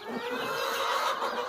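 Brooding hens clucking outdoors in a yard, a soft continuous murmur of clucks, faint and steady throughout.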